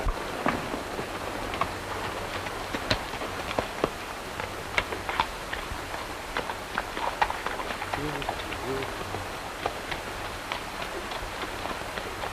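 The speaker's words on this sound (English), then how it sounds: "Looks like Madigan's horse." A horse's hooves clip-clop on the ground in a 1936 western scene, a steady, fairly faint run of hoof beats behind voices.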